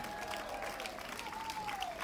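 A crowd at the Curaçao Jazz Vibes 2024 concert gives a musician a steady round of applause, heard at a distance, while an announcer keeps speaking over the clapping.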